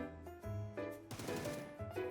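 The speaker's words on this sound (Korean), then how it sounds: "총소리 들리시나요?" Gunfire from a video game crackles in quick bursts and single shots, faint and distant over about two seconds with no voices.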